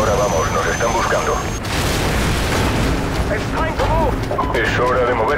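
In Call of Duty 4: Modern Warfare, an enemy helicopter is shot down and explodes with a loud booming blast and rumbling debris, mixed with gunfire and battle noise. Soldiers speak over it.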